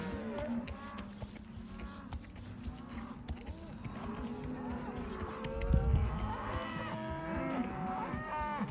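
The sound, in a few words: cattle mooing while being herded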